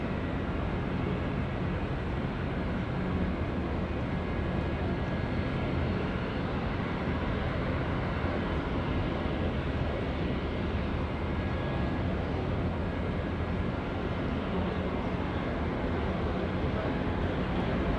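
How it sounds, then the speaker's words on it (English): An ATR turboprop aircraft taxiing toward the domestic terminal at Auckland Airport, a steady broadband engine drone that holds at an even level throughout, with no talk. "We've got our ATR friends here now, making their way to the domestic terminal, of course."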